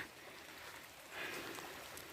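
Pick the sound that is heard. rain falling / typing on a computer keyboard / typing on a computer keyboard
rain falling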